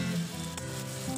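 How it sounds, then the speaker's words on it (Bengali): Cut potatoes going into onions already fried deep red in a pan for a cauliflower-potato posto dish, giving a steady, close sizzle of frying with no voices. "পেঁয়াজটা লাল লাল করে ভাজা হয়ে গেছে, এবার ডুবো ডুবো করে কাটা আলুগুলো দিয়ে দিলাম"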